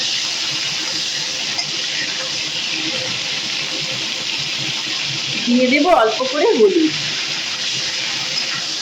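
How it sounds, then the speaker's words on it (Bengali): Cauliflower florets dropped into hot oil with a pinch of salt, sputtering in a brief crackling burst over a steady hiss of frying. "এখন আমি ফুলকপিগুলোকে ভেজে নিব"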